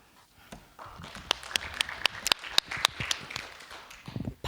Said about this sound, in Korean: 박수를 좀 크게 쳐주셔야 후보들이 힘을 받을 것 같습니다